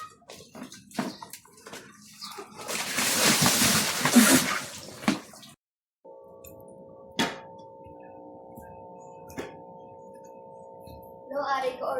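Water splashes and pours from a bucket while plants are watered outdoors, a rushing burst followed by scattered drips and clinks, with people talking nearby.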